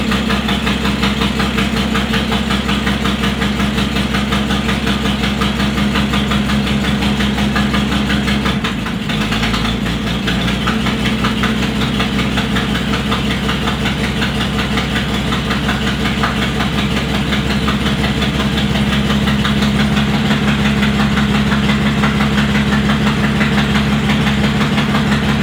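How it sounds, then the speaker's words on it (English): A 1937 Packard engine idles steadily and loudly up close, with a rough, chuffing exhaust leak pulsing through the low rumble. "That exhaust leak is horrible."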